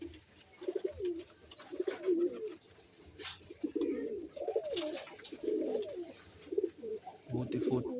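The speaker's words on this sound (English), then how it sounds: "Booty foot pigeons" Booted-foot pigeons cooing close by in repeated soft, throaty rolling phrases, several birds overlapping in an uneven rhythm, with a few faint sharper sounds in between.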